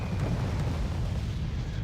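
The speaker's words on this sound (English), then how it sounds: "So the mortar they're opening up here on the center did take out the CV and Foxtrot" Mortar shells explode in the war strategy game Wargame: Red Dragon, a continuous low rumbling boom that holds steady throughout, sounding heavy and somewhat distant.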